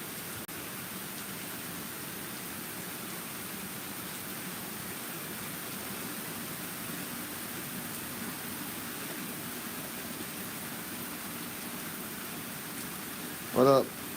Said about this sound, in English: Yeah, more rain.